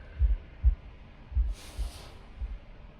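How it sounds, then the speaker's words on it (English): A deafening heartbeat pounds in the video game The Last Campfire. It comes as heavy, low thumps, several in irregular succession, loud against a quiet background, with a brief hiss partway through. "The gurgling of water, a deafening heartbeat."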